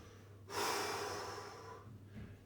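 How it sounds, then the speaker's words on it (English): One deep, close breath fills the quiet during a hip mobility stretch in a back and hip opening routine, a long steady exhale that fades out, followed by a softer breath. "And let's go for that deep breathing."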